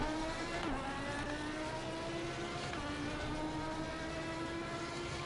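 A Lamborghini race car engine in the Assetto Corsa racing game on PS5 drones steadily at high revs, with a brief dip and rise like a gear change. The sound is loud and continuous, with no talking.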